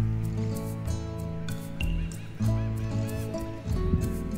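Seagulls call near an open car window on a beach in Rockport, Texas, with repeated honking cries close by over a steady engine-like drone.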